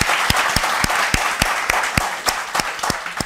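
Audience applause for a singer on a Turkish television show, a loud, continuous clapping crowd close by with sharp, rhythmic accented claps cutting through at a regular beat.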